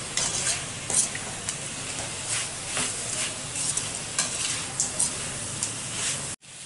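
Spices including chili powder and turmeric being stirred into country chicken in a cooking pot, a steady scraping stir over continuous sizzling frying, loud and close, with no talking.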